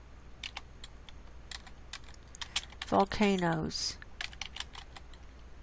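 Rapid clicking of typing on a computer keyboard, close and moderately loud, with a short burst of speech breaking in partway through.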